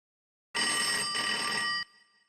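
A telephone bell rings in one sustained burst of a little over a second, clear and fairly close, then cuts off abruptly on a call to a police station in an Indian sitcom.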